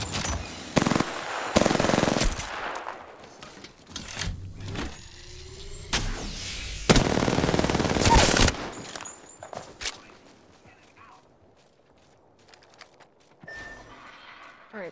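Gunfire from the video game Apex Legends, with bursts of automatic weapon fire and single shots coming in loud clustered volleys early on, then thinning out to quieter game sounds with long gaps.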